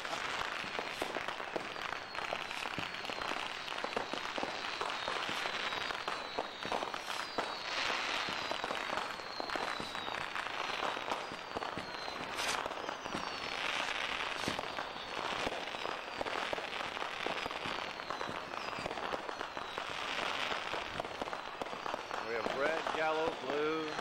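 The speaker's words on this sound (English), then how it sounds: "The smoke is so heavy that it's actually hard to see the fireworks." Fireworks exploding on New Year's Eve amid heavy smoke, a dense continuous barrage of crackling bangs and pops from every direction with crowd noise and voices throughout.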